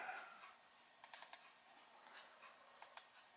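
Quick computer mouse clicks in a near, quiet room: a tight cluster of four sharp clicks, then a pair a little later, with a faint hum underneath and no talking.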